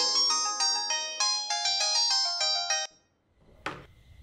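A mobile phone ringtone plays a bright, repeating melodic pattern of beeps for about three seconds before stopping abruptly, followed by a brief faint knock.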